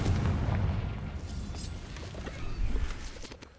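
Booming spell blast in the video game Hogwarts Legacy, a heavy low-end explosion at the start with a second rumbling burst near the end amid battle noise.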